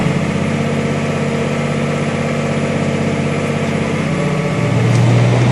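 A Massey Ferguson six-cylinder tractor engine idles steadily and close by, with a low, even rumble and vibration that swells slightly louder near the end.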